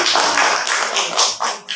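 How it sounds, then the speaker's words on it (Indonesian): A class of primary school children clapping their hands together in a rhythmic, patterned sequence of bursts, loud and close, with no talk over it. "mari kita tepuk tangan"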